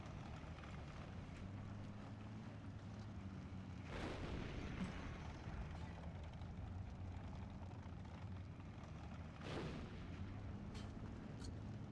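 SK-18 100mm artillery firing in a strategy video game, two deep booming shots several seconds apart over a low rumbling battlefield background, with no talk.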